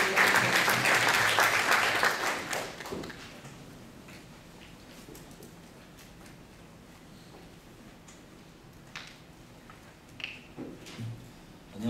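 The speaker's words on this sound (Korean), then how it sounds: "내빈 여러분께서는 박수로 맞이해주시겠습니다." Audience applause at an architecture and urban space forum, welcoming a presenter; a loud burst of clapping for about three seconds that quickly fades into quiet room tone with a few faint knocks.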